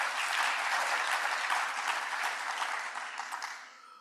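A hall audience at an FP&M SETA event in Johannesburg applauds Dr. Yende, with a full, sustained round of clapping that fades off near the end.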